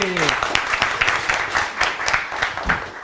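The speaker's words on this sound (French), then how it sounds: "New York, applaudissez." Audience at a farewell ceremony for an ambassador applauds the New York community, a steady burst of clapping with sharp individual claps, and a voice at the start.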